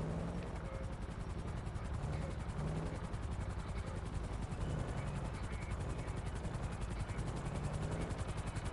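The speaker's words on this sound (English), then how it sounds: "Well, here comes a helicopter." A helicopter's rotors thump in a steady, dense drone in Grand Theft Auto V, continuous and fairly faint, with a voice talking over it.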